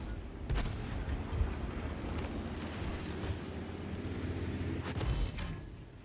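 Tank cannon fire rings out in the World of Tanks video game, a few sharp booms at the start and near the end over a low rumbling engine bed, heard alone without talk.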